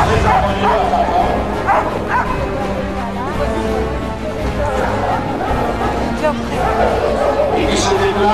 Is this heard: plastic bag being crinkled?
no